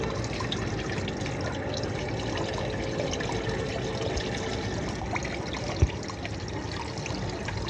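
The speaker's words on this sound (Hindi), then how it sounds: "यहाँ से हमने डीज़ल डालना है साफ़।" Clean diesel poured into an engine after a gear timing fault and draining back out, a steady close trickle of liquid running without pause, with one brief sharp knock near the end.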